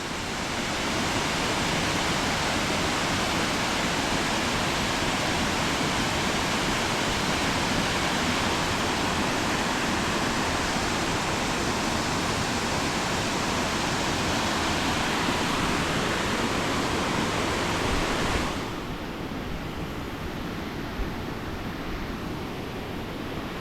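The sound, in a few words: waterfall in the forest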